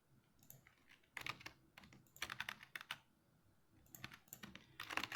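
Rapid computer-keyboard typing in bursts of clicks and clacks, close and fairly quiet, while entering code for a Tailwind CSS web page; the keystroke clusters come in uneven runs with short pauses between them.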